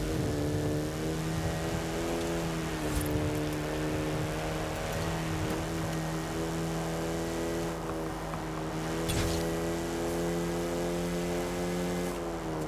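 The engine of a 1958 Austin-Healey Sprite Mk1 in Forza Horizon 5 drones steadily while driving, a loud continuous buzzing tone with small pitch shifts and a couple of brief gear-change dips, no talk.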